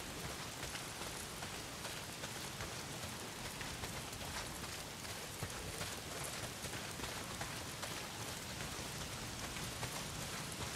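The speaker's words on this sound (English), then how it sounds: "not if it's pissing down the rain" A dense, steady downpour hisses without pause in the video game Days Gone, loud and close, with no voices present.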